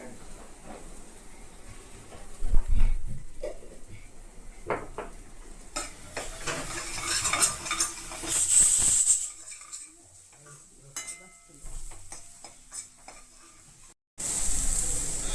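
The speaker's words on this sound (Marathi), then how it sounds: "मसाला भाजला जातो चांगला" Masala with red chilli powder and a little salt fries in a pan for a mutton dish, with intermittent sizzling, spoon scraping and clinks of utensils, some louder bursts and brief pauses.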